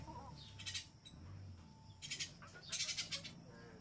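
A pet bird being prepared for talking gives a few bright chirping calls in short bursts, moderately faint and close, over a steady low background hum.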